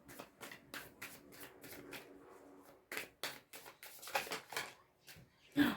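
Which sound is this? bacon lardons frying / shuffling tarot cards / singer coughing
shuffling tarot cards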